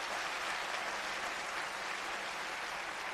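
Audience applause fills a town hall meeting in Camden/Rockland, a steady, dense clatter of many hands clapping at once, loud and continuous throughout with no pauses.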